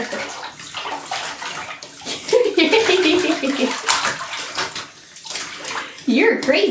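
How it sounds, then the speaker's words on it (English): A small child splashes water in a bathtub, with bursts of sloshing and slapping close by, while the child babbles and an adult talks over the splashes. "Good splashes, Lark."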